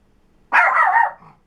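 A single dog bark rings out close and loud, one sustained yelping burst under a second long with nothing else around it.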